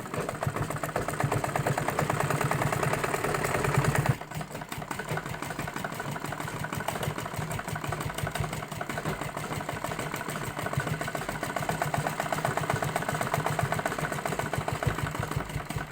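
Sewing machine stitching a belt onto a salwar, a steady fast mechanical whir of rapid needle strokes running nearly continuously, close and moderately loud after a brief heavier start, with no voices.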